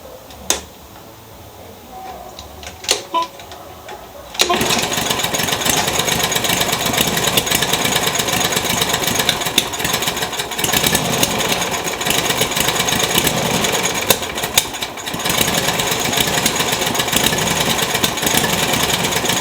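Toro lawn mower engine, fitted with a used spark plug, cranks and catches after a few quiet seconds, then keeps up a loud, steady, rough mechanical roar close by for the rest of the clip, with no talking.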